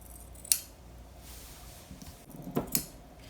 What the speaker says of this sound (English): I'm gonna make some snips all the way around my